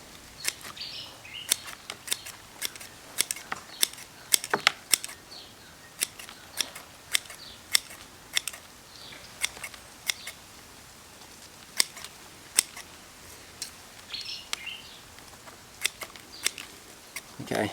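Small pruning scissors snip a fruiting bonsai tree in a quiet room, giving a long series of sharp, close, irregular clicks spaced a second or so apart, with occasional soft rustles of foliage.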